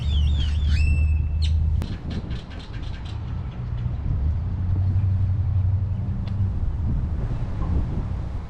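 Birds calling outdoors in Gonzales, Texas: a few clear whistled and chirping calls up front over heavy wind rumble, then only scattered faint chirps as the wind noise carries on, no talk.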